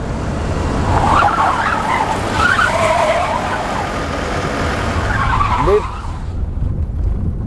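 A car skids continuously, its tires squealing loudly at close range over engine roar, before the sound cuts off abruptly near the end.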